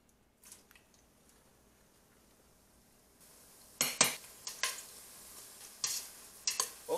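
Food frying in oil in a pan for a Creole recipe: quiet at first, then bursts of crackling sizzle and scraping stirring with a utensil against the pan, close and uneven, without talking.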